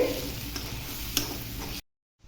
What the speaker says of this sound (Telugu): ఇప్పుడు ఇది చక్కగా మెల్ట్ అయ్యే వరకు బాగా కలుపుకోవాలి